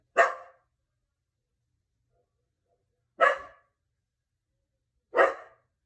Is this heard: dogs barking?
yes